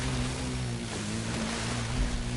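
Hovercraft racing in The Crew 2, a steady droning engine over a broad rushing wash of water and air, loud and continuous.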